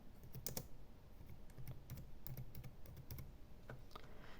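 Quiet, close tapping on a computer keyboard, irregular bursts of clicks and key presses spread across the stretch, with no one speaking.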